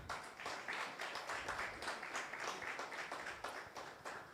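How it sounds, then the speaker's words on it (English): A round of applause at the close of a report launch honoring the moderator: faint, steady, dense clapping from a small audience, continuous for about four seconds with no talking. "A round of applause to her."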